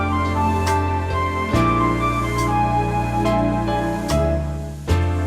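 A Lowrey Elite touchscreen organ runs its orchestral ballad rhythm style preset, with sustained string and pad chords over a steady bass line, chord changes at regular intervals and soft percussion, played alone at a moderate level.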